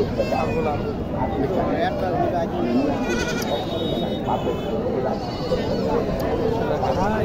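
Goats bleat repeatedly amid a busy crowd at a goat and sheep market in Dhamoirhat, Naogaon, with people talking loudly throughout and a steady hubbub of market noise.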